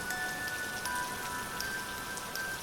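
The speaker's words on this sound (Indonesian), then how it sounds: "di luar, hujan semakin deras" Heavy rain pours down steadily as a backdrop for a spoken horror story, a dense, even hiss with faint drips and no voices.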